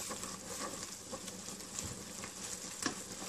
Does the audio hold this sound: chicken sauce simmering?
yes